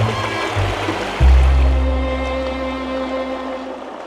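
Steady rushing water of a river flowing nearby in White River National Forest, Colorado, a broad continuous roar with a deeper low rumble swelling in partway through.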